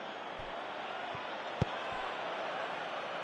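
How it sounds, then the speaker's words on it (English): Football stadium crowd in a video game, a steady distant roar of spectators with a few dull thuds, under quiet commentary-like talk. "you can hear how the crowd are reacting to this too"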